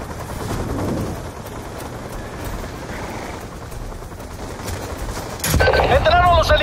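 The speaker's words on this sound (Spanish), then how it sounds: "¡Entraron los helicópteros rusos! ¡Están destrozando la base con cohetes!" In the Call of Duty Black Ops 2 Xbox 360 campaign, Russian helicopters attack a base with rockets amid dense, continuous gunfire, explosions and rotor noise, then a louder burst of combat with voices shouting.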